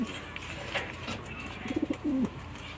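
Pigeons perched on a roof give a soft, rolling coo near the end, with faint chirps and distant background noise before it.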